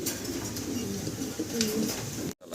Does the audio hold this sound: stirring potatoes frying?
no